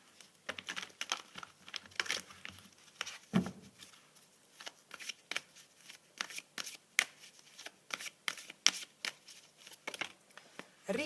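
Tarot cards are shuffled and laid out in a rapid series of close, crisp riffling snaps and soft slaps, irregular but nearly continuous, with no talk over them.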